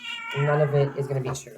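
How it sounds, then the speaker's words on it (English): Someone talks steadily while a cat's meow cuts in near the end. A new male kitten and a 10-year-old cat play together in the background, and the call is faint under her voice. "If you hear cats in the background"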